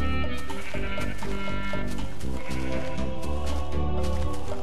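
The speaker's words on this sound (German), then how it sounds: "So viele nackte Schafe hier." Several sheep in Minecraft bleat repeatedly, loud and close, forming a dense, continuous chorus of overlapping calls.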